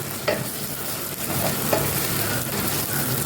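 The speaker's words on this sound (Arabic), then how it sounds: "اهو البصل قربت على السوا" Onions fry in fat in a pan with a continuous close sizzle, broken by a few sharp stirring clinks and scrapes, and nobody speaks.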